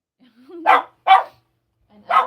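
A small dog gives a low rising growl that breaks into a sharp bark. A second close bark follows, then a brief growl leads into a third bark, all loud and near in a quiet room.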